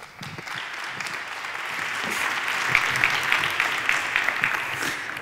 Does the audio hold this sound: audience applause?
yes